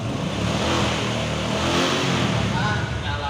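A motorcycle engine revs up from idle to higher RPM, a steady loud mechanical drone that holds throughout with no pauses.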